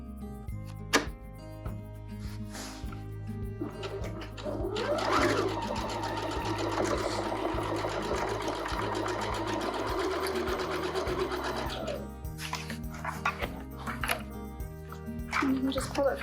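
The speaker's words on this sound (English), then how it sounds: "So I'm going to reinforce this seam. And then just stitch a 1/4 inch away from the edge." Sewing machine running steadily as it stitches a seam a quarter inch from the edge of a fabric shopping bag, a rapid mechanical whir with short starts and stops around it, under occasional talk.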